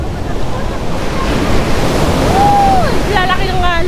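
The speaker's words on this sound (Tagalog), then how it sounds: "Lalaki ng alon." Big ocean waves roll and crash at Crystal Beach in Zambales, a loud continuous surf roar with heavy wind buffeting the microphone and faint whistle-like tones near the end.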